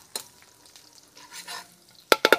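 Garlic hitting hot fat for a native chicken adobo cooked in coconut milk over a wood fire, a few quiet clatters followed by three loud, sharp bursts of sizzling near the end.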